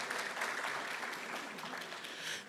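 A crowd at an iftar gathering with the Muslim community claps steadily: faint, even, distant-sounding applause for a couple of seconds, alone.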